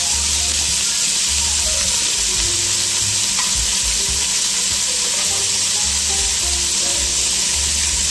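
Leeks sizzle and crackle steadily in hot butter for cream of asparagus and leek soup, a loud, constant frying hiss with occasional low clatters from stirring.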